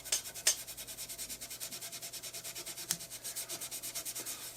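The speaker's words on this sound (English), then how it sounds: "So we'll just rub all the schmuck off." Baby wipes rubbed back and forth over the fingerboard of a vintage JHS ES-335 style guitar, a steady rhythmic scrubbing of about twenty strokes, close and fairly quiet, with no talking.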